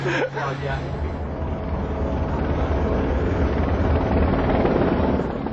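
A steady helicopter drone fills the whole stretch, a loud continuous rotor rumble that stays even throughout.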